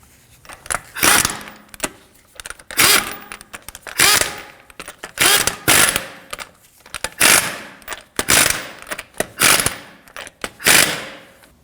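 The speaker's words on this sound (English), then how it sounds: "Snug down the lugs, but don't over tighten them" Lug nuts being snugged down on a 2013-2015 Subaru XV Crosstrek wheel: a steady run of close ratchet bursts, roughly one every second, each a quick clicking spin that swells and drops away.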